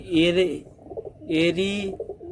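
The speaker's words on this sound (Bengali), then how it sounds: "এই যে পায়রাটা হচ্ছে, এই পায়রাটা আমার আনা" Pigeons in a loft give two throaty, close coos, each a rolling rise and fall lasting about half a second, separated by a brief pause with soft background rustle.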